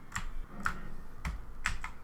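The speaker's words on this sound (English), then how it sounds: "simply press Ctrl plus Alt plus Delete key on your keyboard" Computer keyboard keys pressed for a Ctrl+Alt+Delete shortcut, with several quiet, close clicks spaced irregularly over two seconds and no talk.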